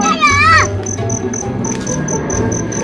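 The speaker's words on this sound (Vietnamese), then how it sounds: "Đây hai con dế nè các bạn ơi, mấy này là dế chó nha" Mole crickets in a garden give a steady, high, continuous trilling chirp that carries throughout, layered over busy outdoor background noise, with a brief sliding tone at the start.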